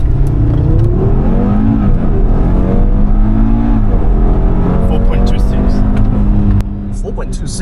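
A tuned Audi RS3 launching hard from 0 to 100 km/h, a loud sustained engine roar climbing through the revs with brief dips at gear shifts, heard close from inside the car and dropping off near the end.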